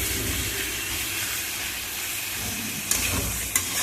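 Spices, salt and sugar sizzle in a hot pan while being sautéed for a prawn and pointed gourd curry, a dense steady hiss close up with a couple of brief clinks of a utensil.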